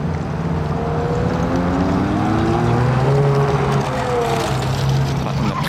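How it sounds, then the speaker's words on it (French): Ferrari 430 Scuderia pulling away on a city street, its engine a loud, continuous roar with rising and falling pitch sweeps as it accelerates through the gears, carried over a constant street background. "430 Scoot qui nous quitte, je crois"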